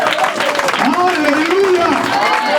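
A church congregation applauding as a pastor rises, with a dense, steady patter of hands that runs the whole time beneath a singing or speaking voice.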